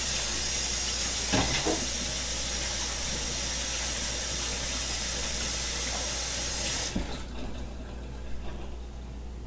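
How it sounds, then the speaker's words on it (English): Tap water runs steadily in a kitchen while hands are washed under it, a continuous close hiss that cuts off sharply near the end, leaving quieter handling noise. "Wash my hands."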